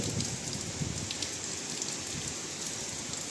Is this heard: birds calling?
no